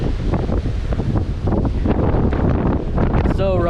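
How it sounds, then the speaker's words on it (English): Strong wind buffeting the microphone on a rocky, wave-swept shore at a dive spot in Dumaguete, loud and continuous gusting with a brief voice at the very end. "It's windy."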